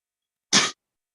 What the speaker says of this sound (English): I'm pretty sure that was a sneeze